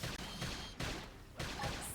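Video game gunfire in Xenoblade Chronicles X: loud, dense volleys of shots in repeated bursts, with an explosive crack at intervals over a steady battle din.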